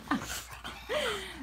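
A bulldog in a bridal studio whimpers in short high whines, with soft panting breaths in between and a longer rising and falling whine at the end, close and fairly quiet.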